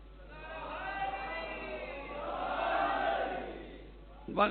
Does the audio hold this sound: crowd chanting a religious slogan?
yes